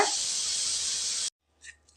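Curry leaves sizzle in hot oil in a pan, a loud, steady hiss that cuts off abruptly, followed by a couple of faint clinks.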